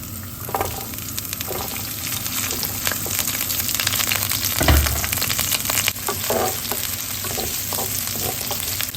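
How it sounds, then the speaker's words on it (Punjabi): Ginger and garlic frying in a pan, a loud close crackling sizzle with irregular stirring knocks and a thump partway through, no talk. "ਪਹਿਲਾਂ ਆਪਾਂ ਨੇ ਅਦਰਕ ਲਸਣ ਨੂੰ ਥੋੜਾ ਜਿਹਾ ਭੁੰਨ ਲੈਣਾ"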